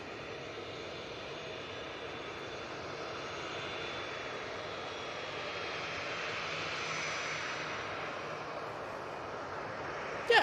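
An EasyJet airliner at Manchester Airport gives off a steady, distant jet engine roar that swells slightly and holds without a break.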